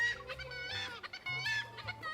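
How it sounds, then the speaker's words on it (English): Seagulls squawking in the video game Love and Deepspace, a loud, dense flock of harsh, laughing cries overlapping continuously and close by, with no talk. "The seagull's laughter becomes louder."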